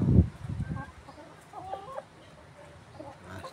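Rhode Island and White Dekalb chickens cluck close by in a farmyard, with a loud burst of low clucking at first, then faint higher calls.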